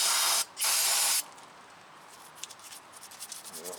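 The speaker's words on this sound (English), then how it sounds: "Alright, now spray it down really good." Two loud, close blasts of aerosol cleaner spray down a salt-worn 2014 Ford F-150 front brake caliper, the second longer, followed by faint handling clicks and taps.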